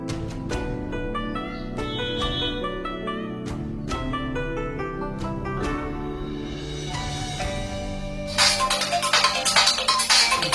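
Mobile phone ringing with a repeating melodic ringtone for about eight seconds, moderately quiet, followed by a brief burst of rustling noise.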